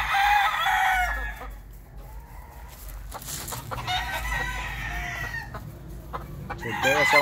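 A white rooster crows loudly near the start and again at the end, with clucking chickens and other fowl sounds in between.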